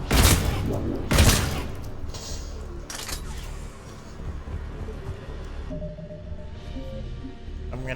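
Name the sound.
shotgun firing in Mass Effect 3 (video game)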